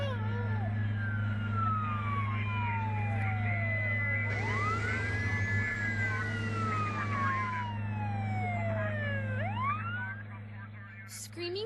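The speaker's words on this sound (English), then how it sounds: "Screaming sirens of ambulances, fire engines, and police cars generally aren't a good sign" Sirens of ambulances, fire engines and police cars wail at once, rising and falling wails overlapping with traffic noise, loud and steady throughout, with no talking.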